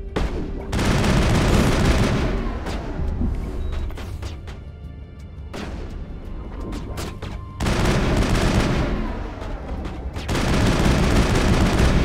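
Weapon fire in the video game Mass Effect, long loud bursts of sustained automatic shooting broken by short pauses, dense and close, with no voices over it.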